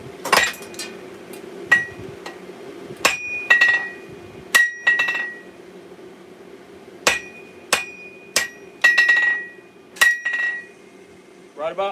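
Steel struck with a hammer on an anvil at a forge while shaping a small Bowie knife: a series of sharp, ringing metallic blows, singly and in quick pairs, spaced irregularly over a low steady background hum.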